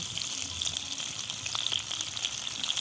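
Boiled potatoes fry lightly in a pan with salt and turmeric for aloo dum, a loud, continuous close sizzle with fine crackling and no voices.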